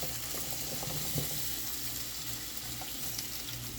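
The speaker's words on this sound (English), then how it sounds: "Ooh, watch out for that grease splatter." Potatoes dropped into hot oil on medium-high heat give off a steady, dense sizzle and crackle with small grease pops, loud and close throughout without any talking.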